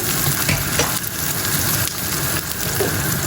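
Steady, close sizzling of onions and chillies frying in hot oil, with occasional stirring scrapes, continuous and loud throughout.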